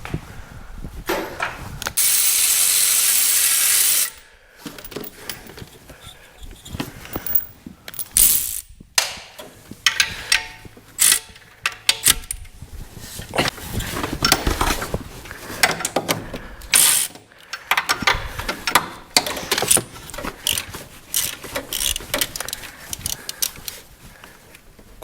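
Ratchet clicking loudly and up close while bolts come off the clamshells of a 1984 Camaro Z28, with quick bursts of pawl ticks alternating with pauses and a brief steady mechanical hiss near the start.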